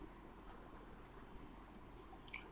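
Chalk or marker scratching short strokes on a classroom board as a teacher writes an answer, a quiet run of soft, rhythmic scrapes with a sharper tap near the end.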